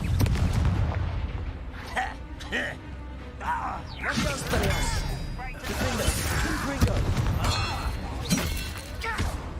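A Confringo blasting spell goes off in Hogwarts Legacy, giving loud booming, crashing impacts amid dense combat clamor, repeated bursts over about ten seconds with voices shouting throughout.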